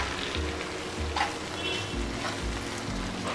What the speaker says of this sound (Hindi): अब मैं इसको थोड़ा सा मिक्स कर देता हूँ